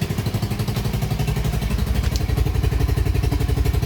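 A restored Kymco Super 8 150 scooter engine runs at a steady, rhythmic putter close by, with clattery pulses and no voices.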